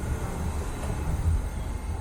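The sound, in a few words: train interior ambience, train to Brussels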